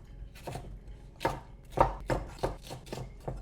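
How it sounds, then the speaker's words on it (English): A knife chops through a red pepper on a board, about eight crisp strokes in an uneven rhythm, close and clear with no talking. "Now finally chop 1 red pepper"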